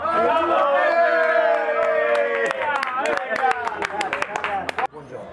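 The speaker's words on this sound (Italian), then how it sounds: "Facciamo un applauso per l'eleganza." Wedding guests break into applause, scattered sharp claps rising through a busy room while music and voices carry on beneath.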